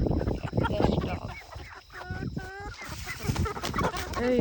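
Backyard chickens clucking and squawking in a busy morning flock as scratch grains are scattered for them, close and lively, with a person talking over them.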